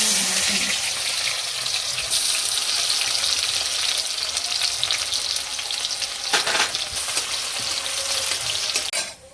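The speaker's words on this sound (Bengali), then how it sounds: "তেলটা গরম হয়ে গেছে এবার পেঁয়াজটা" Onion fries in hot oil in a pan, a loud continuous close sizzle that holds steady throughout, with a brief stir partway through.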